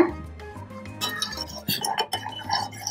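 Spoon clinking and scraping in a pot while milk is stirred into boiling masala tea, light irregular taps and clinks close up, with faint talk underneath.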